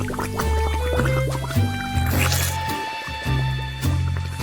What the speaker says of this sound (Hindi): एक पूरी मछली भी इसमें डालना जरूरी है